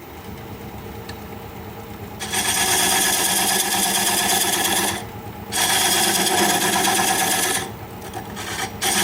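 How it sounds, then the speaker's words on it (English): A diamond point tool squares a tenon on driftwood spinning on a lathe, giving a loud rasping buzz in several long bursts with short pauses between them over the hum of the running lathe. "I'm going to use this diamond point tool to square up the sides of the tenon."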